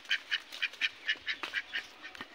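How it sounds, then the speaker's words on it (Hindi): Village ducks quacking near a water channel, a quick run of about ten clear, evenly spaced quacks in a steady rhythm, moderately close and alone without talk. "ये देखिए बतख सब"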